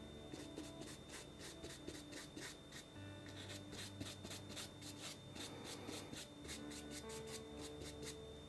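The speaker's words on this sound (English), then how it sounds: "A little bit of black to it. Just rub it in a little bit." Black paint rubbed into a painting with quick, rhythmic scrubbing strokes, a soft close rasping that runs on steadily and alone.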